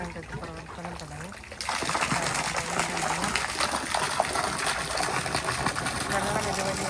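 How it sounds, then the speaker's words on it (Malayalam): A fish pond filter pump starts up and water gushes steadily through it, a loud continuous rushing that follows a brief stretch of people talking. "വെള്ളം ഇതുവഴി വന്ന് ഫിൽറ്റർ ചെയ്ത് മോളിൽ കൂടെ റൊട്ടേറ്റ് ചെയ്ത്"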